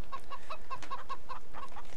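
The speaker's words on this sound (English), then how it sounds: "Hello chickens, thank you" Chickens in Farming Simulator 15 cluck in a quick series of short, bright calls, about eight in two seconds, close and clear over a soft background hum.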